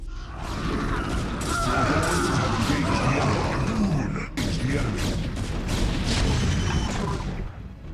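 Dense StarCraft Brood War battle with Protoss forces pushing through turrets and Goliaths: a continuous loud clatter of weapon fire, impacts and explosions filling all eight seconds, with a brief dip just past the halfway point.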